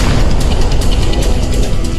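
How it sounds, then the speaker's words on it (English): A huge explosion aboard an aircraft carrier produces a loud, sustained roaring blast with rumbling low end and crackling bursts, filling the whole short moment without any voices. "another huge explosion."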